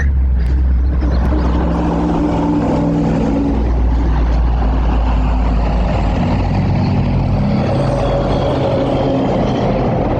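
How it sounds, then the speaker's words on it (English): An empty logging truck rolls past near a state forest logging area, a loud, steady low engine rumble and road roar that fills the whole stretch without fading, with no voices over it. "Here comes a logging truck."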